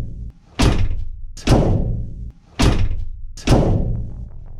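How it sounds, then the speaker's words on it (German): A campervan door, newly insulated, is slammed shut four times in a steady rhythm, each a close, heavy, deep thud with little metallic ring, separated by short pauses. "Das ist einfach wie eine schwere Tür."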